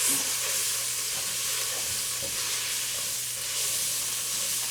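Ground beef stirred in a pan for rotel dip, a steady close sizzle with hissing running throughout and faint scraping stir strokes over it, no voices.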